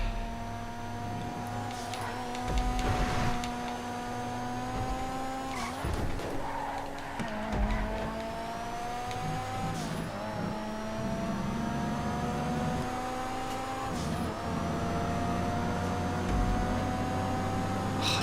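Z-type classic race car in GTA 5 during a sports classics event race, a steady high engine whine with gear shifts and brief tyre skids, sustained throughout at moderate loudness.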